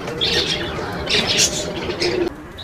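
Soft pigeon coos and chirps come in short bursts over a low, steady outdoor background murmur.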